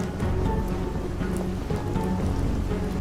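Rain falls steadily in the video game UnMetal as a continuous dense patter, with low game music or ambience underneath and no talk.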